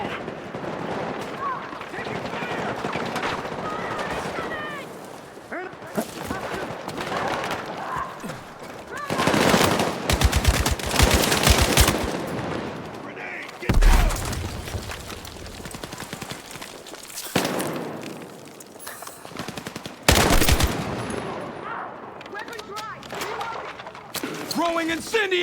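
Gunfire during a night raid through a souk in Battlefield 6: rattling automatic bursts and heavy booming shots, with several loud blasts, over shouted squad voice lines.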